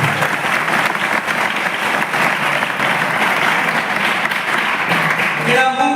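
A crowd applauds steadily and loudly at a Christian gathering in Odisha, the dense clapping holding an even level for several seconds before breaking off near the end.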